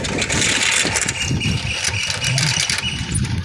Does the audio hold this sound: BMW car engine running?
yes